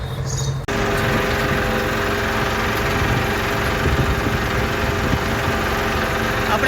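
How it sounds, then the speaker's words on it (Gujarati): A diesel tractor hitched to a seed drill idles before groundnut sowing, a loud, steady, low droning rumble that starts abruptly after a brief moment and continues unbroken. "ઓરણી તૈયાર છે, ટ્રેક્ટર તૈયાર છે"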